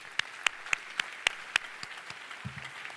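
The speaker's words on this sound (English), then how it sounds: "Let's all give a warm round of applause and welcome to President McInnis" Sparse, individual claps from an audience at a distinguished lecture welcoming a university president, sharp and distinct at first, then thinning out to lighter scattered claps, with a low murmur near the end.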